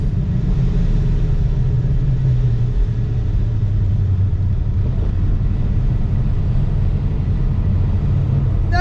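A ProCharged, cammed drag car roars through a run down the strip, a loud continuous engine rumble holding steady with no talking.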